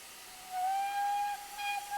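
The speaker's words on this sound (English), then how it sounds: "that was a special whistle when you press and hold tab to whistle the signalman" A GWR 2600 Class steam locomotive in Train Simulator 2020 sounds its whistle as a steady, shrill tone. It swells after a brief hiss and stays alone and clear.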